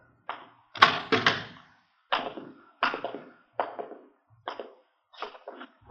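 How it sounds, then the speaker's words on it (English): A hospital room door in an old radio drama is worked with a series of sharp knocks and rattling thumps, about eight distinct hits spaced unevenly with silence between them. "You want to open the door?"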